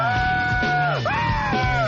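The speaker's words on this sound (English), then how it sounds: "The screaming Homer." A cartoon character, Homer Simpson from The Simpsons, screams loudly in a sustained, wavering yell that bends and slides in pitch, broken by a brief dip near the middle and then resuming just as loud.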